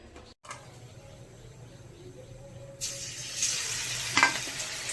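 Capsicum fritters hit hot oil in a wok, starting as a low hum before a bright, loud sizzle bursts in near the end and swells with a brief crackling peak, with no talking.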